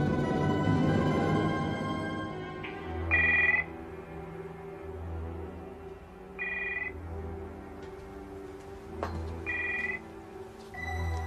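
An old-style telephone bell rings in short bursts, about four rings spaced a few seconds apart, over quiet background music with no talking.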